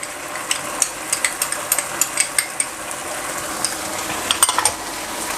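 Chili sauce and sweet chili sauce for Mongolian beef are stirred in a hot pan, with a steady sizzle and quick repeated clicks of a utensil against the metal.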